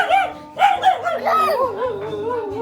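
A dog barks and yelps in short bursts close by, the calls rising and falling in pitch with a whining, howling edge, while people talk and shout over it.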